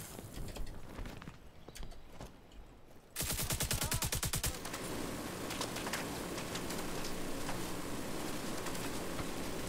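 Enemy LMG gunfire in The Division 2 during the Manning National Zoo mission: a rapid, loud burst of automatic shots around the middle, then a dense, continuous spray of fire that goes on to the end.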